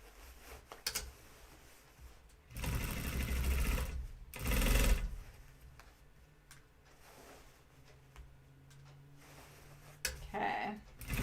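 A domestic sewing machine stitches a pair of jeans in two or three short bursts of rapid mechanical whirring, the first two close together, with a quieter clack near the end and no speech.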